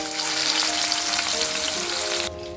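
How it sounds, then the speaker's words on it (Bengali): Small mourala fish fry in hot mustard oil in a wok, a loud, steady sizzle and crackle close by that drops away sharply at the end. "মাছগুলোকে ভেজে নেব।"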